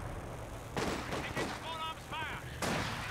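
Soldiers' rifles in the video game Company of Heroes 2, a few sharp shots with thin ricochet-like whines over a low ambient bed, faint and mixed with battle noise.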